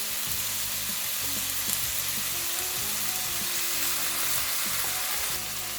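Aged kimchi frying in a pot for spicy bean curd-residue stew, a loud continuous sizzle with soft rhythmic stirring knocks beneath.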